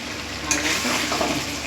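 Marinated chicken being stir-fried in a pan sizzles steadily, a close, continuous frying hiss with a brief scrape of the spoon midway.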